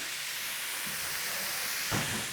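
Onions cook in a pan for a homemade cottage pie, giving a steady, even hiss and sizzle throughout, with a soft knock or shuffle near the end.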